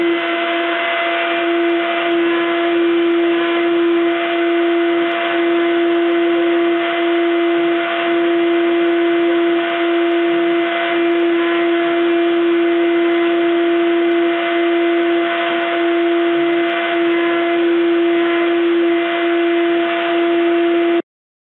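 DeskProto CNC milling machine cutting text into a sheet of wood, giving a loud, steady, continuous mechanical whine with a strong sustained tone that holds unchanged from start to finish, with no talking.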